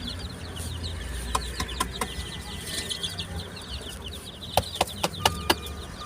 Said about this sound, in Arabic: تعالوا بقى معانا افرجكم بقى على الفراخ بتاعتنا النهارده بقى شكلها عامل ازاي